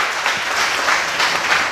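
Audience at a Christian sermon applauding, a dense, loud and sustained wash of clapping from many hands with no talk over it.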